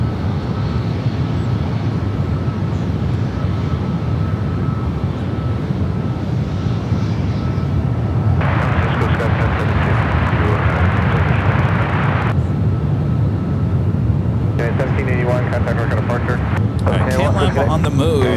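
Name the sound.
airliner jet engines at San Francisco airport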